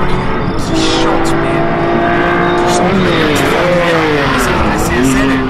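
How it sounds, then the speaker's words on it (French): A BMW CSL with a six-cylinder engine at the Tour Auto 2017 road rally, revving and changing pitch as it drives, heard under loud continuous talking. "C'est aussi un bruit, un 6 cylindres qui chante"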